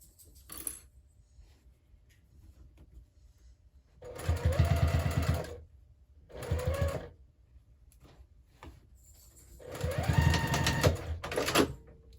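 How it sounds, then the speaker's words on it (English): A sewing machine stitches the closing seam of a scrappy zipper pouch at an eighth-inch allowance, running in three close, quiet bursts of rapid mechanical whirring separated by short pauses. "we'll just go ahead and sew that closed at 1/8 of an inch seam allowance."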